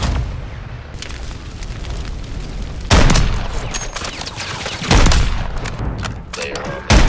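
Rapid gunfire bursts and sharp shots from Modern Warfare 3 multiplayer, including wallbang kills, with heavy loud blasts near 3 and 5 seconds over continuous game noise.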